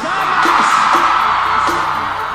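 Women in a large concert crowd at a São João festival show in Recife screaming together on cue, a loud, steady, high-pitched roar lasting the whole moment with music underneath.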